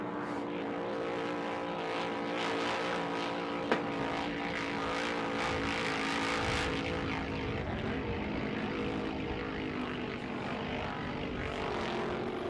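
Cars in a Super V road race at the Great Lakes Grand Prix drone past continuously, a steady, loud engine roar with a sharp spike near four seconds, holding near on the track with no pause.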